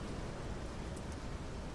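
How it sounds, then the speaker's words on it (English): Rain ambience sound effect playing on a livestream, a steady, soft hiss of falling rain with no distinct drops or voices, faint and continuous throughout. "Like now, it's raining for me, so I set it to rain."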